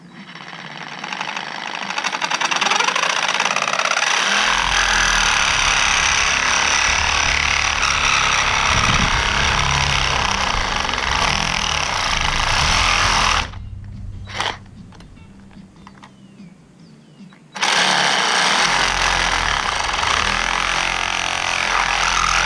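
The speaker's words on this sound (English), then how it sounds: "now we'll take the sawzall, make 2 slots, and then we'll grind this smooth." A sawzall cuts slots in RV awning parts, first in one long, loud, close buzzing burst, then after a short pause in a second run.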